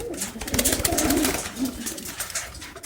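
Blue checker pigeons coo in a loft, soft repeated throaty calls close by, mixed with fluttering and light background noise.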